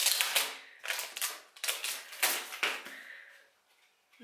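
Keys strike on a small typewriter in quick, uneven bursts of sharp mechanical clacks, close up, with a faint carriage whir near the end and no talking.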